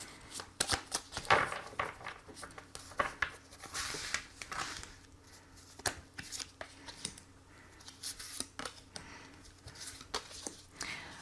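Tarot cards are shuffled and drawn with rapid riffling and flicking, broken by soft taps and slides as three cards are laid out. The sounds are quiet and close, with no talking.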